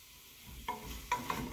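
Conch pieces are stirred in marinade in a pan, giving a brief, quiet sequence of soft scraping strokes and faint wet clinks over a low background.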